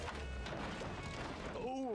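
A GT3 race car crashing at Watkins Glen in a racing video game, losing its door: a loud smashing impact amid steady engine and tyre noise, with a voice talking.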